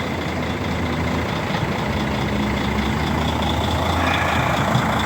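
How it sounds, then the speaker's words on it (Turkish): Heavy dump trucks unload at an excavation dumping site, with a steady loud diesel engine rumble and idling throughout and faint reversing beeps in the background. "Döküm yapıyor arabalar."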